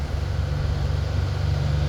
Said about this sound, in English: I'm revving the engine up a little bit to intensify it.